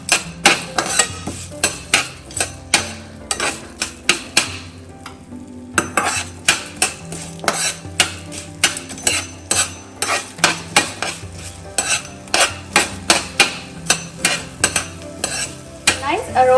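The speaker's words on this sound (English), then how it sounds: "Saute it a bit." Coriander seeds with asafoetida sautéed in a pan, the spatula striking and scraping the metal in a quick, loud, repeated rhythm over a faint sizzle, with no speech.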